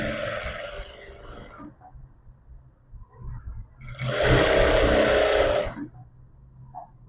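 A sewing machine stitches a half-inch seam on a cotton pillow cover with the presser foot down, running in two loud, steady bursts separated by a quieter pause of cloth handling.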